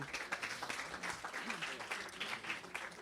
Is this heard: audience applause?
yes